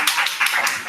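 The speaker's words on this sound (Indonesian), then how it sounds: "Silakan tepuk tangan dulu" Brief clapping from an audience in a teacher-training session, a few uneven bursts of hand claps lasting under a second with no talking.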